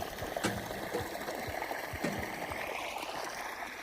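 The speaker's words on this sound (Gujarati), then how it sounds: "પાણી શરૂ કરી દીધું" Irrigation water flows into a freshly sown sorghum field, a steady, moderately quiet rush and trickle with occasional gurgling splashes, heard alone without talk.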